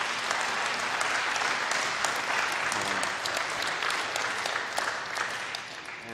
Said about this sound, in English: give our speaker another round of applause